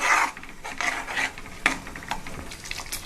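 Egg masala curry with whisked yogurt is stirred in a pan, producing repeated rasping scrapes of a spoon against the metal over a soft sizzle, close and steady with one sharper knock midway.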